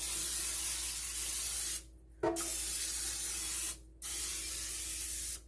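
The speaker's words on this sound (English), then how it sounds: "I'm going to use a butter spray." Two short bursts of butter cooking spray hiss onto a pan, close by, separated by a steady background hiss with no voices.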